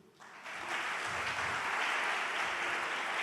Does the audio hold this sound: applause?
yes